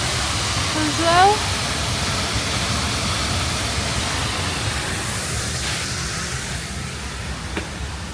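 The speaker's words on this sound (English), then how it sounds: "you have some nice spot to see waterfall here as well." Duden Waterfalls in Antalya sends out a steady hiss of falling water, a constant broad rush that runs without a break, with a brief voice near the start and faint distant sounds later.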